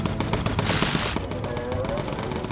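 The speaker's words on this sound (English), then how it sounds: "Keep firing, keep firing. We've nearly got him, we've nearly got him." Rapid machine-gun fire from an aircraft turret in the Bomber Crew video game: continuous, closely spaced bursts of shots that stay loud and dense throughout.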